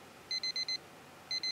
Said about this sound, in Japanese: 目覚ましから始まって